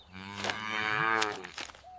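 A single cow lets out one long, drawn-out moo, close and clear, rising and then tapering off, with a brief higher call at the end and no talking.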